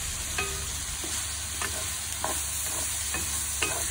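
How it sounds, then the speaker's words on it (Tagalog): Winter melon sautéing with ground pork and shrimp in a pan, a continuous sizzle broken by repeated spatula stirs and scrapes at an even pace, close up and with no talking. "Pero ilalagay ko na rin yan dyan para magkaroon siya ng lasa."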